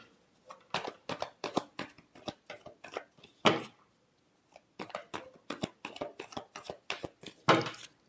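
Tarot cards are shuffled close up in quick bursts of crisp riffling slaps, with a short pause in the middle before the rapid shuffling resumes.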